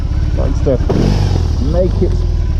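BMW R18 motorcycle's big boxer engine revving under throttle on a first ride, short loud bursts of rising engine note, with a rider's excited voice talking over it.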